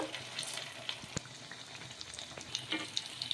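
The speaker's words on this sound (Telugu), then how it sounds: "ఇలా 2 వైపులా కూడా కొంచెం కలర్ వచ్చే వరకు ఫ్రై చేసేసుకోవాలి ఆయిల్లో." Semolina (rava) breakfast pieces shallow-frying in oil, a soft continuous sizzle and crackle, with occasional light utensil taps as the pieces are turned, quiet and without speech.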